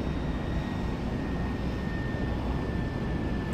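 A steady, droning airplane engine hum in the video game Grand Theft Auto V, holding at an even level, with a faint high whine running underneath.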